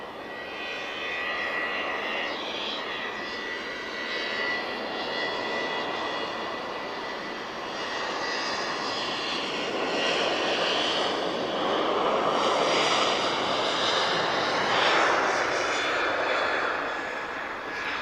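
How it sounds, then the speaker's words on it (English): Jet airliners departing Lisbon Airport roar loudly and continuously, a broad rushing engine noise that swells and surges as aircraft climb out, with no talk over it. "Getting some very noisy departures today"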